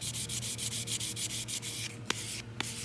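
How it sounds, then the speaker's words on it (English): A copper and brass jewelry inlay is sanded by hand in quick, regular back-and-forth strokes, a close, rasping scrape that pulses rhythmically before breaking into a couple of sharper scuffs near the end. "Keep sanding."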